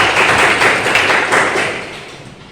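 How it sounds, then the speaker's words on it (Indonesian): A classroom of students claps together after a lesson on Pancasila, a dense burst of hand claps that starts loud and fades out over about two and a half seconds. "Berikan tepuk tangan."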